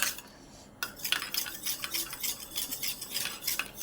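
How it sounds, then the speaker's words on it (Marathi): Eggs are whisked briskly in a bowl with a utensil, rapid rhythmic clinking and tapping strokes close up after a brief pause, with no talking. "असं छान फेटून घ्यायचं आहे"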